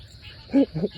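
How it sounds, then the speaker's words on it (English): Bullfrogs croak in the woods at night, giving a few low, close, throaty calls in quick succession over a steady chirring of insects. "some of y'all probably don't ever hear bullfrogs like that"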